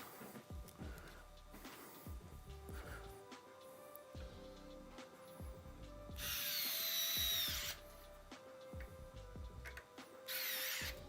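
An electric screwdriver drives screws into a Corsair 5000D Airflow PC case in short bursts of whirring, with a louder sustained burst midway and another near the end, close and clear with handling clatter between.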